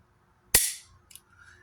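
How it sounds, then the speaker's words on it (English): A single sharp metallic snap rings out as the firing pin of a Kel-Tec Sub-2000 carbine drops after the slide is racked, followed by a fainter click a half second later. "Hear that audible firing pin?"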